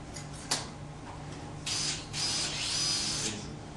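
A power drill whirs in two short bursts, close and moderately loud, over a quiet background hum, during orthopaedic surgery.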